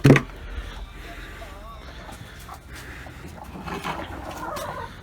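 Chickens clucking in a coop, soft scattered clucks under a person talking nearby, with a sharp clank at the start.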